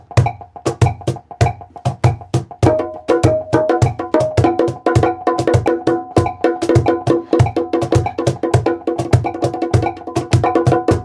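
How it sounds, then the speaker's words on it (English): Bongos played loosely and irregularly over a steady metronome click, with sharp, dense hand hits in an uneven rhythm, close and loud. "I'm gonna play random stuff on my bongos."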